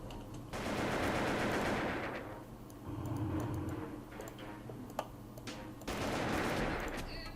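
Rapid machine-gun fire from the online shooter Wolf Team comes in three loud bursts with short pauses between, with a few sharp clicks and no talking over it.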